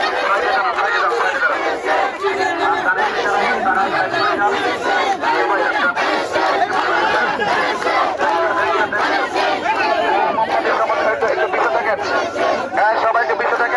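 A street candle procession crowd chants loudly and continuously in unison, a dense mass of voices with rhythmic shouted slogans filling the whole stretch without a break.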